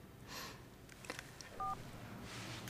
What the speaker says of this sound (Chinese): 我这就给他打电话